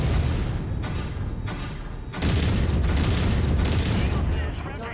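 A mech's autocannon fires in a video game, heavy booming bursts over a dense, continuous wash of battle noise, loud and close, with game voices mixed underneath.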